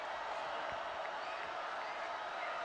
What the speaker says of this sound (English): Thomas fans over there are standing up and clapping and coming to life